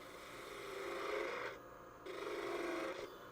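Skew chisel cutting a wood mallet spinning on a lathe, a steady raspy shearing hiss in two continuous passes with a brief pause between, close and fairly loud.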